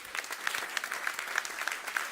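Brief burst of audience applause at a food systems event, dense clapping with a few sharper individual claps standing out, moderately near.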